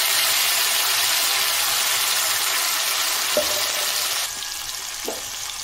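Prepared paste sizzles steadily in hot olive oil with chopped garlic, a dense continuous frying hiss with a couple of soft stirring knocks near the end and no voices.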